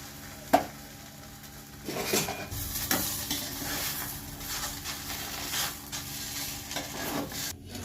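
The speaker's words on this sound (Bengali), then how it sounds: "এখন ভেজে নেব।" An aloo paratha fries in a pan with homemade ghee, giving a soft continuous sizzle with scraping strokes and a sharp clink near the start.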